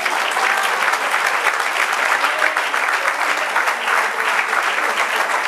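A church congregation breaks into steady, loud applause during a Spanish-language service, a continuous wash of many clapping hands with no pauses.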